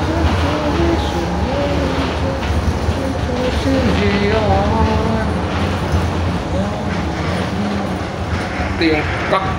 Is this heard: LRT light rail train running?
yes